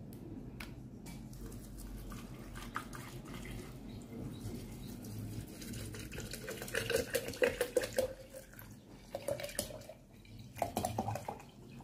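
Water is poured over mint leaves in a container, a continuous close splashing pour whose tone rises as the vessel fills, with a few brief knocks.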